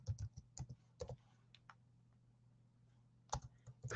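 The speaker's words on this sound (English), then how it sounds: "so I'm going to type it in" Keys clack on a computer keyboard in two short bursts of close, crisp typing separated by a quiet pause, over a steady low electrical hum.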